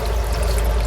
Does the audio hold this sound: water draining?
yes